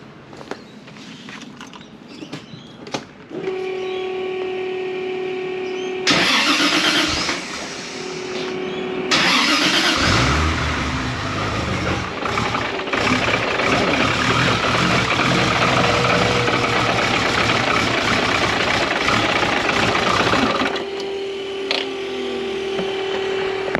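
Toyota Supra engine fitted with Bosch Motorsport 2000cc injectors cranking and catching, then settling into a steady, loud idle with a steady drone and a brief revving surge in the middle.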